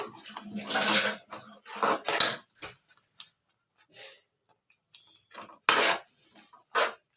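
Water poured into a pan of paneer kurma, splashing and hissing in bursts, with intermittent clinks of a utensil against the pan between pours, close and moderately loud.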